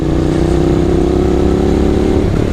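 A Honda VTR 250 motorcycle cruising at about 50 km/h, its engine a loud, steady continuous drone with wind, recorded close from the rider's position.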